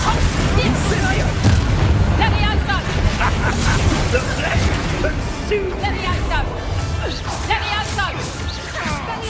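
Fiery spell blast from the Incendio charm in the Hogwarts Legacy video game, a dense run of booming, crashing impacts and crackle lasting throughout, loud and busy, with game voices and chatter mixed underneath.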